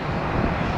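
A Boeing 767-300ER airliner from Minneapolis passes overhead near Tampa, a steady broad engine roar with some wind buffeting, fairly loud and continuous throughout the short stretch.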